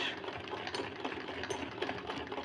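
A sewing machine stitches with a continuous rapid mechanical rattle, moderately close and alone with no talk.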